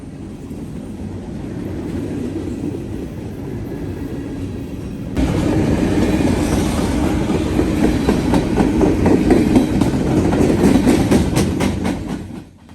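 Freight train led by an ES44DC locomotive and a 9000-series unit rolling past, a steady heavy rumble that swells louder midway with rhythmic clickety-clack of wheels over rail joints, close and continuous before fading at the end.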